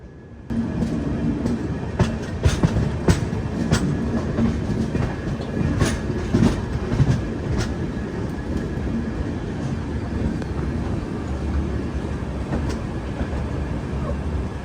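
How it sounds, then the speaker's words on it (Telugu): The Millennium Superfast Express pulls slowly out on its way from New Delhi toward Tirupati, a steady close rumble of rolling wagons broken by rhythmic wheel clacks that carries on without a break. "మెల్లగా బయటకు వచ్చింది ట్రైన్."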